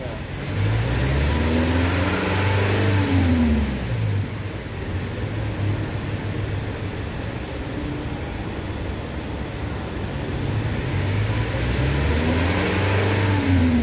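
Toyota Innova Reborn engine revved during a throttle test, with a couple of rising and falling rev sweeps near the start and again near the end over a steady idle, while people talk nearby.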